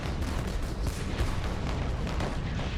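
A barrage from hundreds of heavy guns along a wartime front: a dense, continuous rumble of overlapping booms and blasts, loud and unbroken.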